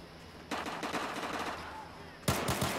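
Pistol fire in the video game Battlefield 4 comes as a dense burst of rapid sharp shots, then a pause, then another loud burst, all close and punchy.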